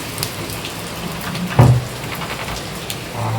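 Rain falling steadily with a hissing wash, broken by one sharp thud partway through and a few scattered drips.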